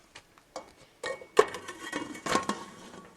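A lid set on a pot of simmering hodgepodge soup with chili beans and hominy: a few light metallic clinks and knocks, one sharper clank midway and another soon after, close by with no talk.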